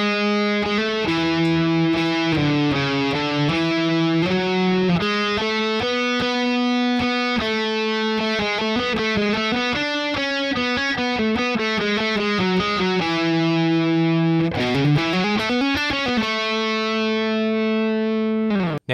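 A distorted electric guitar plays a harmony part, a steady run of crisp picked notes with heavy overdrive, close and loud, ending on a sliding bend and a held note.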